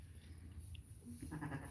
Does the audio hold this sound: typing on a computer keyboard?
no